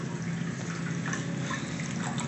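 Water rushes steadily into the overflow of a custom split sump and refugium aquarium system as it restarts after a simulated power cut, a continuous close, even flowing wash with no pauses.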